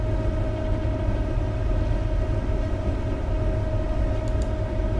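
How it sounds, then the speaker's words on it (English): A nine-car CrossCountry passenger train rolls along steadily in Train Simulator 2017, giving a continuous close rumble and drone with a sustained tonal hum and no break for the whole stretch. "we are driving a 9-car train"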